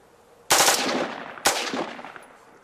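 Two loud, sharp rifle shots on an outdoor shooting range at ARES, each cracking close by and trailing off in a long echoing tail, about a second apart.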